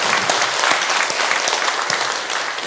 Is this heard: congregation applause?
yes